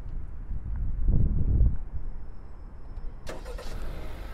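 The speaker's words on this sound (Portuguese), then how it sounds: "a gente consegue também abrir o porta-mala e consegue ligar o motor" A 2022 Honda City Touring sedan starts its engine remotely from the key fob, heard from outside the car as a low rumble that swells for a moment, then settles into a quiet idle, with no one talking.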